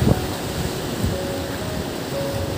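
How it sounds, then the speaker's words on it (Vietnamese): Sea waves off the Dinh Cậu shrine on Phú Quốc, stirred slightly rough by a south wind, make a steady broadband wash with gusty wind noise on the microphone and a few louder surges. "ở ngoài Dinh Cậu á có gió nam nên biển hơi động một xíu"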